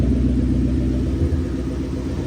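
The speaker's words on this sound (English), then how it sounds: "A little stumbly on the idle there quickly." A Ford Terminator Cobra engine idles unevenly and runs very rich, its low, steady rumble stumbling slightly as it sits close and loud with no talk over it.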